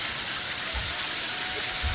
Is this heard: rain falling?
yes